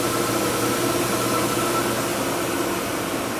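Spindle of a Haas VF3 vertical machining center running at 2000 RPM gives a loud, steady mechanical hum with a constant whirring drone and no change in pitch or level throughout.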